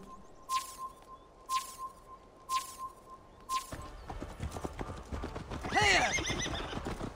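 Horse in Assassin's Creed Valhalla, with a run of evenly spaced hoof clip-clops followed by a loud, wavering whinny over a background of game ambience and chirping.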